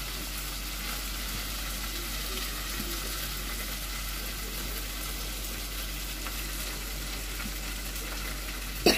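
Boiled potatoes frying with green chili and garlic in hot oil, a steady loud sizzle with occasional stirring scrapes, close and continuous.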